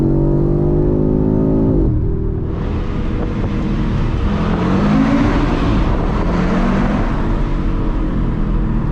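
An Audi RS3 at full throttle gives a loud, steady, rising engine roar that pauses briefly at a gear change and then climbs again, heard alone with no talk.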